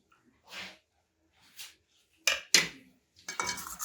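Marinated cauliflower is tossed with spices for Gobi 65, with soft squishy mixing strokes and a few sharper clinks of a spoon against the bowl, near and intermittent, no talk.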